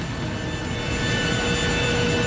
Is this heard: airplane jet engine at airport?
yes